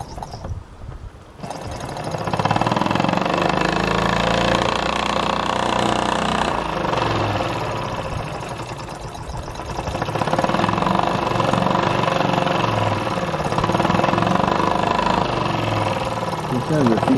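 Mamod SP4 model steam engine running, a close rapid mechanical chuffing and rattling that starts after a brief pause and continues steadily, with a voice talking over it.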